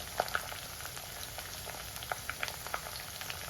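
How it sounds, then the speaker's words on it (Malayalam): Garlic and green chilli frying in oil, with a soft steady sizzle and a scattering of faint crackling pops, quiet and close with no one talking. "എല്ലാ സാധനവും നന്നായിട്ട് എണ്ണയിൽ കിടന്ന് മൂത്ത് വരണം"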